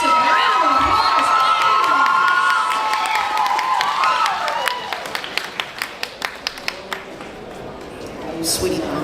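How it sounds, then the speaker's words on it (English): A large crowd at a cosplay competition cheers and whoops loudly, then breaks into scattered clapping that fades, with voices shouting throughout. "Massive round of applause."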